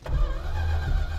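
A V8 Plymouth Barracuda's engine cranks and catches in a brief, loud low rumble, steady and close, with no voices over it.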